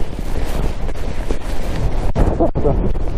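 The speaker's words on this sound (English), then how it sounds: "That was windy." Steady, heavy wind on a Lake District fell buffets the microphone throughout, a low roaring rumble with brief gusty dips.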